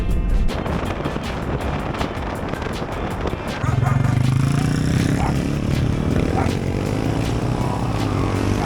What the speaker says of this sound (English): There's 4 guys that are riding the trail on their adventure bikes.